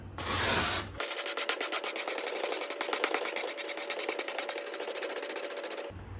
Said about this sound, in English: Now I'm going to take this wire brush to it and try and get the rest of it.